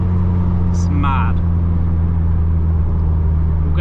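Engine rumble of a Volkswagen Golf R heard from inside the cabin while driving, a steady low drone that holds throughout with a brief higher whine near the start.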